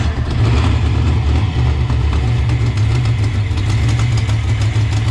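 A 1988 car engine runs steadily at idle with a low, even mechanical rumble, loud and close throughout, with slight hints of revving and no voices.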